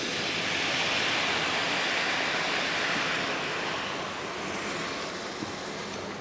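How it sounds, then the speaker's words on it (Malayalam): Half a cup of vinegar poured into a pan of hot oil and spices while making bilimbi (irumban puli) pickle, giving a steady, dense hiss of sizzling that stays loud and even throughout with no talking. "ഞാൻ ഒരു 1/2 കപ്പ് വിനാഗിരിയും കൂടെ ഇതിൻ്റെ അകത്തോട്ട് ഒഴിച്ച് കൊടുക്കുകയാണ്."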